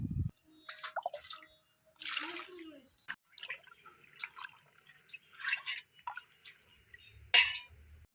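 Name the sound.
washing kharman leaves in water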